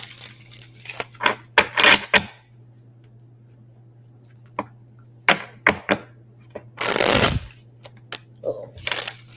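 Tarot cards are shuffled by hand in short, crisp bursts of riffling and snapping, separated by quiet pauses, close up over a faint steady hum.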